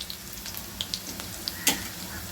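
Onions sautéing in a pan for a bitter gourd stir-fry, a steady soft sizzle with scattered small pops and one sharper crackle, heard alone with no talk.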